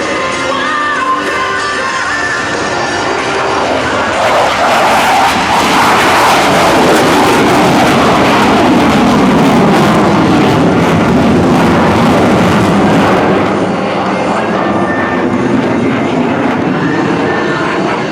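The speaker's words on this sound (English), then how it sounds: "Get your cameras ready from the right, the Super Hornet in a photo pass." An F/A-18F Super Hornet jet makes a low photo pass at an air show, a loud roaring engine that builds, peaks overhead with a sweeping tone shift, then fades, with crowd shouts faint beneath.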